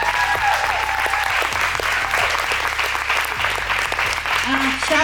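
An audience bursts into loud, sustained applause, dense clapping filling the room from start to finish with a bit of crowd noise underneath.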